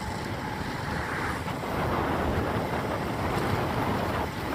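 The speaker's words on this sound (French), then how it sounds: "Ouah, cette cascade." An Alpine waterfall roars as a steady, dense wash of rushing water, loud and continuous throughout with no talk.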